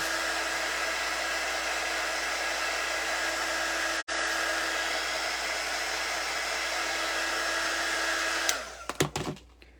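A hair dryer blows steadily at close range, drying chalk paste on a decorative craft egg, a continuous whooshing hum with one brief cutout before it stops near the end with a few handling knocks.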